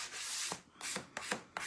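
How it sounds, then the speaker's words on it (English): A wooden sign for a bunny craft is lightly sanded by hand, giving soft, close rubbing strokes in short repeated passes. The sound is quiet and brief. "Just going to lightly sand this as well."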